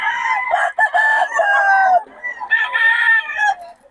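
Chickens and a rooster at a poultry market in Bocaue, a loud close rooster crowing twice in long drawn calls over clucking from other birds, with no talk over it.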